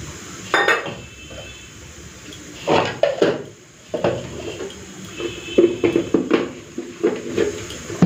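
Garlic is ground with small splashes of water on a stone grinding slab, making close, irregular scraping and knocking strokes that come in uneven bursts and grow busier toward the end.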